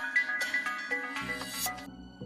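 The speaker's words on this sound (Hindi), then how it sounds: "तो तुम्हारा फोन आ रहा है।" A phone rings in a domestic drama scene, playing a short, bright melodic ringtone of repeated chiming notes over a low background.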